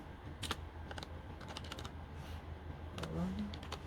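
Fingers type on a computer keyboard in scattered, uneven bursts of close clicks over a low steady room hum, with no talking, during an Indonesian data structures coursework tutorial.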